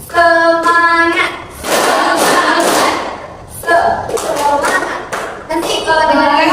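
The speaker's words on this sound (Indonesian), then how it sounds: "Kalau kakak bilang kayak semangat harus tepuk tangan kayak gitu ya" A group of girls at an Islamic boarding school clap their hands together in loud, thumping bursts, broken by shouted voices calling out in between.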